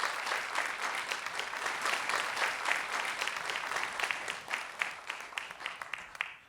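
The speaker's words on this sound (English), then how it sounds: "Another big round of applause for Ari." Applause from an audience at the close of a keynote talk at a daytime event, a steady moderate wash of clapping with distinct individual claps that thins out near the end, with no talk over it.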